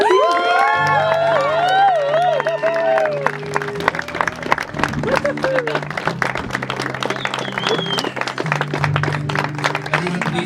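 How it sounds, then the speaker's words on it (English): Wedding guests clapping and cheering for the newlyweds, loud sustained applause with whoops and shouts from a crowd including children, music playing underneath. "just clap and cheer the new couple"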